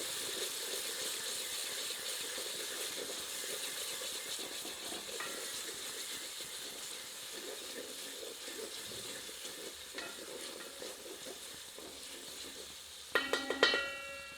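Four to six broken dried whole red chillies frying in a chicken kofta gravy, giving a steady, moderate sizzle throughout, with a few faint clinks and a brief cluster of sharp metallic taps near the end, no talk.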